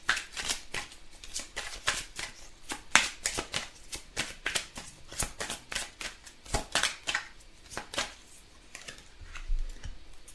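Tarot cards shuffled and drawn by hand at close range, a steady run of soft rapid riffles and flicks going on without pause, with no voices.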